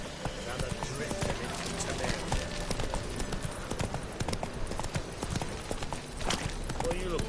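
Roach the horse gallops in The Witcher 3, hooves pounding in a fast, even rhythm up close over a dense bed of game music and ambience.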